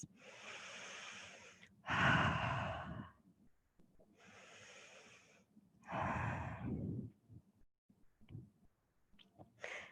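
Deep belly breaths during a Pilates stretch, three slow audible cycles of inhaling and exhaling up close, each breath a soft rushing airflow separated by quiet pauses.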